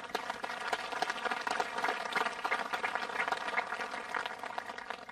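Crowd applauding outdoors at a military police brigade change of command ceremony, a continuous crackle of many hands clapping at moderate distance, fairly soft and sustained without voices.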